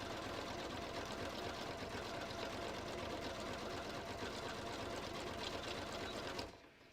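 Continuous steady whir of a domestic sewing machine running a decorative holiday stitch pattern on a handmade card, close and loud with a fine rapid needle rhythm for about six seconds before stopping abruptly.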